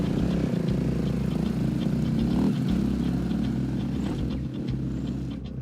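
Dirt bike engines idle together on a road on the Isle of Man before an off-road ride, a steady low rumble with a faint ticking mechanical chatter over it, holding level throughout.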